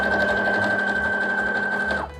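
A sewing machine stitches thick tweed fabric in a fast, steady mechanical whir with a sustained whine, running continuously close up before stopping abruptly.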